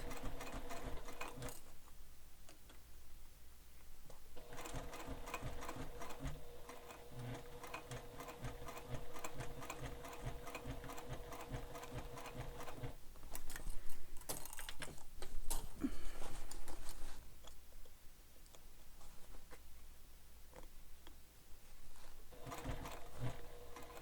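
A sewing machine stitches a bulky fabric sling pack in steady rhythmic runs, close and fairly loud, with short pauses where it slows to single stitches.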